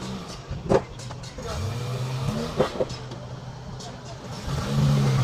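Inside a moving car, a low engine drone hums steadily with occasional rising revs, while people talk over it.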